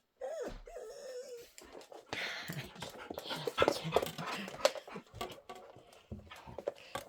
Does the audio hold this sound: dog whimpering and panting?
yes